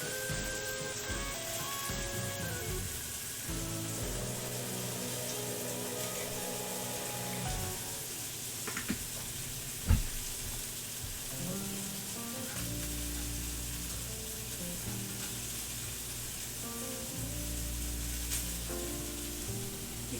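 Pork sizzling in a frying pan, a steady crackling hiss of hot fat that runs the whole time at moderate level, with a few clinks and scrapes from the pan along the way.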